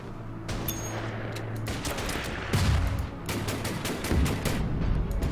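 Gunfire and artillery in the Order of Battle strategy game, set in the desert at Tobruk: steady crackling volleys with heavier thumping blasts, loud and continuous, with no talking.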